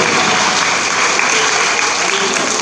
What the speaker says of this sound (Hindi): बच्चों आज भी उनके लिए ताली बजाइए जोरदार